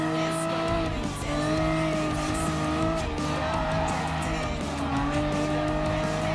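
Racing cars in Gran Turismo Sport, including a 65 Sigma Group 4 car, roar with loud, sustained, harmonic engine tones and tire squeal that run continuously without a break.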